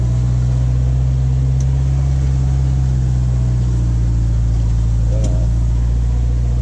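Continuous low engine hum of a car driving, steady throughout, with faint background noise and a brief squeak near the end.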